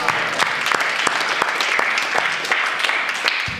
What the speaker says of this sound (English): huge round of applause for all of you